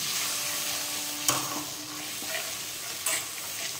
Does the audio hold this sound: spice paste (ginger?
yes